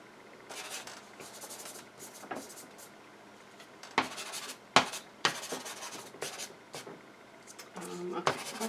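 Soft pastel scribbled in squiggly strokes across paper, giving a dry scratchy rubbing in short irregular bursts, close and fairly quiet, with a few sharper taps.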